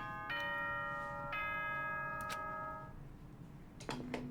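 Announcement chime from the Danganronpa: Trigger Happy Havoc video game: two bright bell-like ding tones ring out in sequence, followed after a pause by a quick pair of rising electronic chime notes, standing clear over a low background hum.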